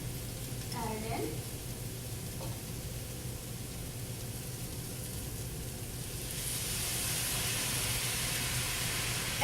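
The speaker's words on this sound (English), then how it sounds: "I'm going to actually add in my sauce now" Sauce poured into a pan of vegetables already cooking fast, with a steady sizzle and hiss underneath that swells louder near the end as the liquid hits the hot pan.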